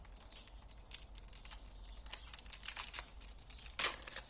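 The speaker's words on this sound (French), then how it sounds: "je vais le déballer" Crinkly plastic packaging being unwrapped from a set of metal cutting dies for paper crafts, with soft, close rustles and crackles throughout and a sharper burst of crackling near the end.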